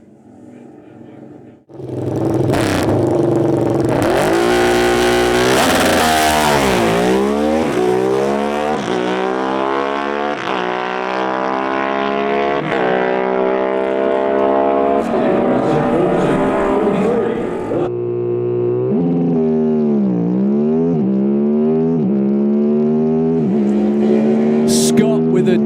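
Drag racing machines roaring down the strip at a 2025 national finals event, a loud engine blast that swells, shifts pitch through rising and falling harmonics, then drops and revs again, close and dominant throughout.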